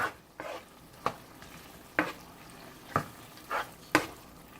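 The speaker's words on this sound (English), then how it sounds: "at the same time I will put in my mushroom that I cut up" Cut mushroom and parsley cook in a frying pan for spaghetti and meatballs, a low sizzle under regular scrapes and stirs roughly once a second, close and clear with no speech.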